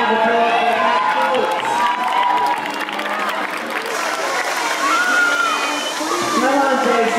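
Crowd at a climbing competition applauds and cheers, a loud, continuous wash of clapping and shouting with an announcer's amplified voice talking over it throughout.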